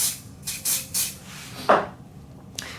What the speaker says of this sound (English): I spray the top of it.